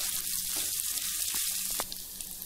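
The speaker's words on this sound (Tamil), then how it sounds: "இந்த ஸ்டேஜில் பீட்ரூட் சேர்த்துக்கோங்க." Beetroot pieces added to a hot pan for beetroot chutney, with a steady close sizzle of frying that briefly quietens near the end.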